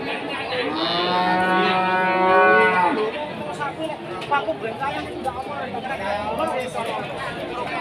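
Cattle, including Limousin and Pegon cows and bulls, at a livestock market in Pati, with a loud nearby moo in the first few seconds followed by crowd chatter and people talking in the background.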